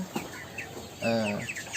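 Chickens in a coop give short clucks and a longer drawn-out squawking call, close by, with a faint steady electrical whine in the background.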